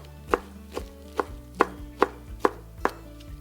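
A knife chops through rolled-up spinach on a cutting board with eight crisp, evenly spaced strikes, close and clear, with no talk.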